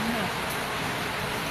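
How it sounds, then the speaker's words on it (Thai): Steady hiss of rain falling, dense and even, with a brief faint tone near the start. "ฝนตกค่ะทุกท่าน กินเสียงฝนไหมคะ"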